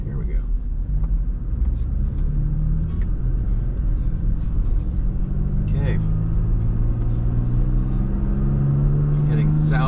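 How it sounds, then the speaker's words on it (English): Road traffic rumbles around a moving car in Little Rock, with a low engine drone and a few vehicles passing close by. Someone says a brief word over it. "A lot of traffic coming in."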